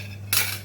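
Coconut milk poured and mixed into a pot of Goan fish curry, a sudden short whooshing splash of liquid near the pan after a moment of quiet kitchen hum.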